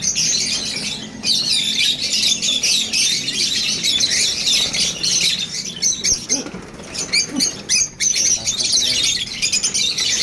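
Busy chorus of bird chirps and squawks, dense and continuous, with scattered flutters and scratchy noises close by.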